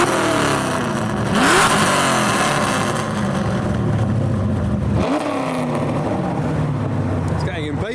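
A Bentley Blower, a big old British car, revving its engine nearby with loud rising and falling surges. Each rev climbs in pitch, and people talk over the rumble.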